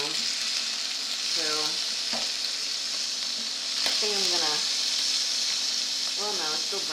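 Pot roast beef browns in a hot pan with a steady, loud sizzle and hiss that keeps going throughout. Scraping and stirring noises come and go over it, and a voice talks briefly in the background.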